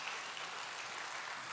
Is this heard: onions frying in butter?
no